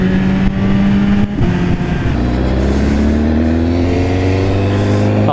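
A BMW S1000RR sport motorcycle on a test ride, its engine revving and accelerating with a steady rising drone. There is a brief dip, like a gear change, before the pitch climbs smoothly again, loud and close throughout.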